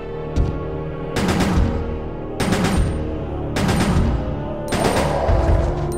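Claire's handgun in the Resident Evil Survivor 2 – Code: Veronica video game fires in auto mode, loud rapid bursts of shots in four clusters separated by short pauses, with no talk over them.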